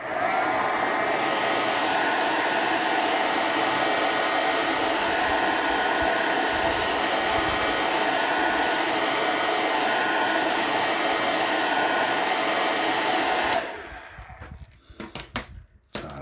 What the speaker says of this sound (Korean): 빨리 말리기 위해서 선생님이 헤어드라이기로 준비를 했거든요.